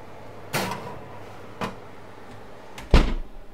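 A home oven door is shut on a roast chicken, with two lighter knocks of handling first, then a firmer thump with a short rattle as it closes, heard close up with no talk.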